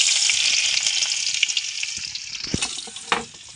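Garlic frying in a hot pan, with a steady, bright sizzle that stays close and loud throughout. Near the end come a few sharp spits and clatters from stirring.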